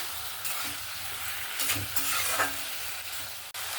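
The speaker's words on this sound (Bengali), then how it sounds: "আমি এখানে আমচুরটা দেওয়ার পরে ভালো করে নাড়াচাড়া করে নিয়েছি" Katla fish curry with mango powder stirred in a pan, a steady sizzle of frying running throughout with soft scraping strokes of the spoon rising and falling, close and clear with no voices.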